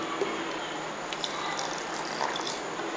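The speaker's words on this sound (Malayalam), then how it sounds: "ഇനി ഒരല്പം വെള്ളം ഒഴിച്ചു കൊടുക്കാം" Water poured into a mixer grinder jar holding raw rice, while making soft palappam batter; a soft, steady trickle and splash runs through the clip at low level with no talk.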